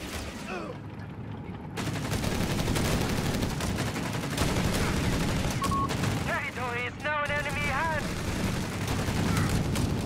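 Company of Heroes 3 battle: Assault Grenadiers trade fire with BAR riflemen in rapid, overlapping bursts of gunshots and automatic fire, steady throughout, with commentators' voices running over the combat.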